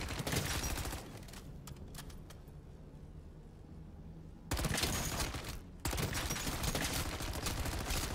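Dense gunfire from MW3 Zombies fills the whole stretch, heavy bursts blending into a steady roar that swells louder after a brief drop, with no talking over it.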